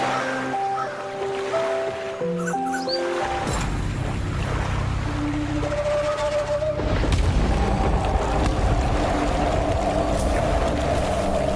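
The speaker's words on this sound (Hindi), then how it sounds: "एकदम से इतनी तेज हवा क्यों चल रही है?" Loud, steady rushing wind gusting through a Hindi cartoon about a ghost, surging in after some tonal music and staying strong and continuous to the end.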